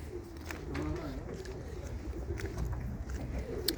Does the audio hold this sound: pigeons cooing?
yes